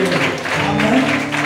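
Congregation clapping during a church worship service, a dense steady wash of applause under a sustained musical tone, with voices mixed in throughout.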